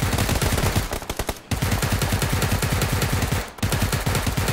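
Rapid bursts of automatic gunfire in the video game PUBG repeat almost without pause, loud and close, broken by two brief gaps.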